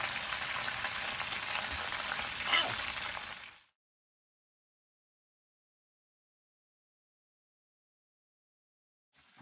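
Chicken frying in hot oil, a steady dense sizzle for a few seconds that then cuts off to silence.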